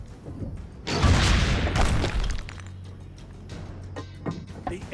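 Cannon firing in Assassin's Creed Brotherhood, a single loud booming blast with a rumbling tail that fades into low game ambience.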